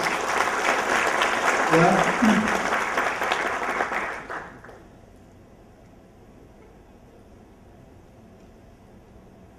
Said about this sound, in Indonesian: Tepuk tangan untuk Keke Indonesia dan Sistem Fish